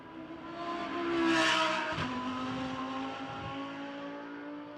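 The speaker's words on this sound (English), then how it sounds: "the first car onto a flying lap is Luca Engschler's Lamborghini then, as he goes across the timing line" A Lamborghini GT race car on a flying lap in qualifying at the Macau street circuit, its engine revving up and swelling loudly as it nears, then shifting and holding a high, strained whine, with a brief tyre squeal.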